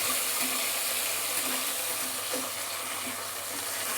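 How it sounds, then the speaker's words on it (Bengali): Potatoes and taro for a thin charapona fish curry fry in a pan, leftover boiling water making the oil spatter and hiss in a dense, steady sizzle, close by and unbroken, with no talking. "একটু জলটা ছিল যার জন্য ছিটে আসছে জলটা"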